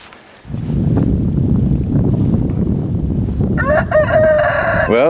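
A backyard rooster crows once, loud and close, near the end, rising over steady rushing noise from wind and weather outdoors on a snowy day.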